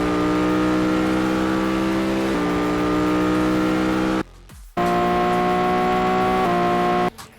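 A loud, sustained Lamborghini V10 engine from the racing game Asphalt 8 drones at near-constant pitch, with short shifts in tone, a brief near-silent break midway, then the engine resumes. No talking.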